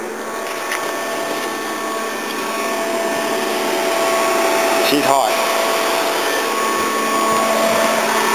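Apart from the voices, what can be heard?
car radiator cooling fan running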